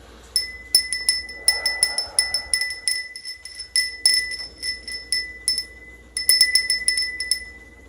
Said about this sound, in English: I'm also going to ring my bell to do a bit of cleansing